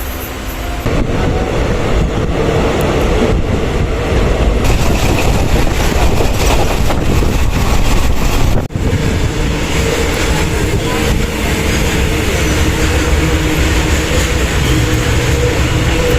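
The Hosapete SF Express, train 11139, runs along the rails after leaving a junction, with loud continuous rumbling and rattling of the carriages and a brief dip partway through.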